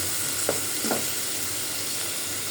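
Small shrimp and other ingredients fry in oil for a dried fish curry, a loud, continuous close sizzle with a couple of brief soft stirring scrapes and no talking.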